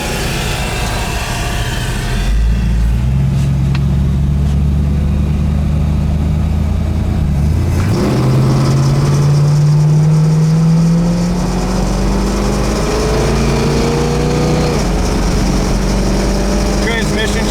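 A 1969 Roadrunner's 440 V8 idles smoothly just under 1,000 RPM, a close, steady low rumble that starts after a moment of background noise, with someone talking over it.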